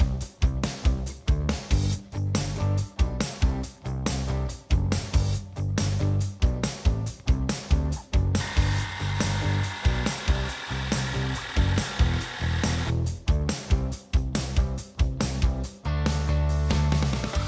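Power saw fitted with a fine finish wood blade cutting a sheet of plywood for a hammock stand, loud whining cuts repeated in short pulses, with one longer sustained pass in the middle.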